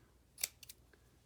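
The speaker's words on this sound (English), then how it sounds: "let's try some different scissors" Scissors trimming a yarn pom pom, two or three quick crisp snips close up in a quiet room.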